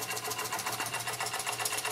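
A Weeden 902 toy steam engine with a repaired sight glass runs at a steady, rapid chuffing beat, close and fairly quiet, with no voices.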